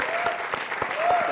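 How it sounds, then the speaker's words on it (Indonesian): Studio audience at a dating game show applauds in a steady, moderately loud patter, with scattered sharper claps and a voice briefly audible underneath. "tepuk tangan buat Astri."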